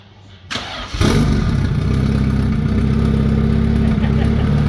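Car engine cranks briefly, then catches and starts with a loud rise into a steady, rough idle, the ignition just corrected after two swapped distributor wires.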